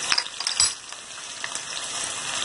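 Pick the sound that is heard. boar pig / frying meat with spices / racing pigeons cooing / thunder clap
frying meat with spices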